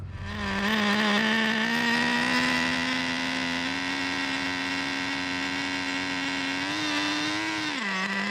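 A Traxxas Nitro Rustler's 3.3 nitro engine with a troublesome carburettor drones loudly and steadily at close range, its buzzy pitch drifting slightly before dropping just at the end.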